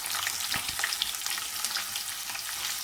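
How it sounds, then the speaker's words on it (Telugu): Thinly sliced onions frying in hot oil with curry leaves for chitranna, a steady close sizzle with a couple of light stirring knocks near the start. "ఆ తర్వాత మనం సన్నగా కట్ చేసి పెట్టుకున్న ఉల్లిపాయ ముక్కలు వేసుకోవాలి"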